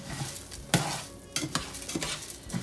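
Onion powder and garlic powder toasting and being stirred in a hot pan, with a soft sizzle under scattered scraping strokes of a utensil, close and fairly quiet.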